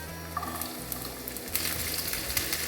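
Ginger, garlic and slit green chillies sautéing in hot oil in a pan for a Kerala-style raw vegetable pickle, a steady close sizzle and crackle with occasional stirring scrapes, no voices.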